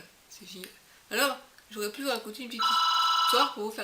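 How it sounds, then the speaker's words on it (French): A telephone rings loudly with a sustained electronic bell tone toward the end, while someone speaks in French over and before it. "Ça me fait pareil du tout, c'est le téléphone."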